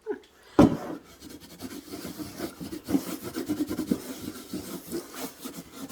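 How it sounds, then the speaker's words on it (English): A towel scrubbed hard against layers of plaster on a wall to create a vintage finish gives a steady run of rough, rasping rubs, close and fairly loud, with one sharper scrape near the start. "I'm rubbing against the layers of the plaster"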